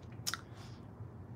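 Someone chews cooked shrimp close to the mic, with a brief crisp bite near the start followed by soft, moist munching that continues quietly with no talking.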